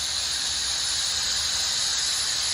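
Steam hisses steadily through a steam adapter into an inversion lining drum during pipe relining cure, a loud, continuous broadband rush with a high squealing edge, with no talking.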